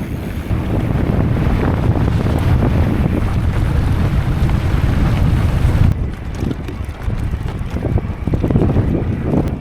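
Strong, cold wind buffets the microphone in a continuous loud roar on the Mawson Trail in South Australia, with gusty rumbling throughout and no one speaking.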